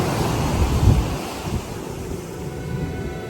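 Steady ocean surf washing in with a constant roar, mixed with wind buffeting the microphone; loud and close, no voices.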